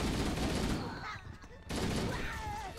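Rapid gunfire in the first-person shooter Halo: Combat Evolved, dense bursts filling the first second, a brief lull, then more sustained firing mixed with game effects and faint speech-like sounds.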